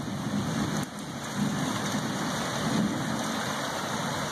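Heavy rain pouring down steadily during a severe storm in Florida, a dense continuous hiss with a low rumble underneath.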